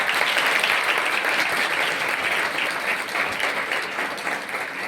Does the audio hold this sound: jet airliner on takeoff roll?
no